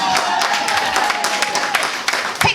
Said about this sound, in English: can you stand up for us women and give us a round of applause?